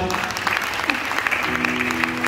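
Church congregation at GBI Hawila in Siantar claps in a loud, dense burst, with hum and murmured voices mixed in beneath the steady applause throughout.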